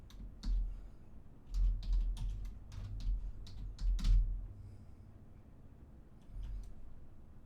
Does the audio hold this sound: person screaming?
no